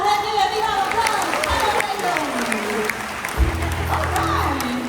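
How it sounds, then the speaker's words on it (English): Applause and crowd noise fill a seal show at a Singapore zoo, with steady clapping from the audience mixed with chatter and a voice speaking over it. "Let's give a big round of applause."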